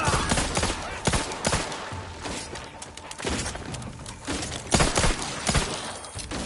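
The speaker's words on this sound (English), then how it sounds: "Shooting mechs is too easy." Gunfire against mechs in the video game The Outer Worlds 2, a dense, loud fusillade of rapid shots and crashing impacts that continues almost without pause.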